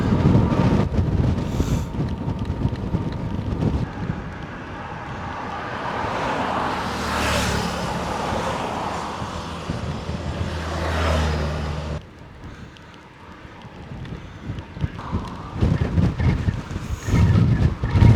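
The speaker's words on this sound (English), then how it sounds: "The wind is so strong." Strong wind of about 15 meters per second buffets the microphone while bikepacking in Norway, a continuous loud roar and rumble that swells and eases in gusts for the whole stretch, with no talk.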